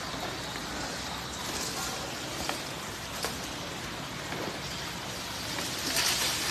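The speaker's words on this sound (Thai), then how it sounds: "วันนี้ฝนตก" Steady rain falls outdoors at a place where an elephant is brought for eye drops, a constant dense hiss of drops on surfaces with a few faint clicks and knocks, no voices.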